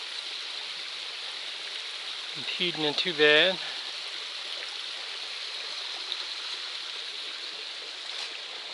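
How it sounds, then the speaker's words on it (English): A small waterfall on the Appalachian Trail gives a steady, even hiss of rushing water heard from a short distance, continuing throughout while a hiker briefly speaks over it. "I got a little waterfall right there."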